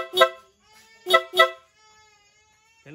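Loud horn fitted to a Yamaha Aerox motorcycle, blaring in three short close blasts, the second and third close together, with quiet gaps between them.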